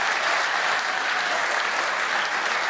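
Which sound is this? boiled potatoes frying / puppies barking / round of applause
round of applause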